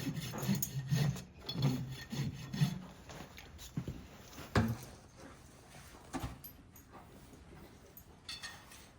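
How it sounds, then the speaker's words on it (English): A farrier trims and rasps a horse's hooves with steady, repeated scraping strokes, close and fairly loud, with short pauses between passes and a few sharper knocks. "I'm standing here getting my hooves trimmed"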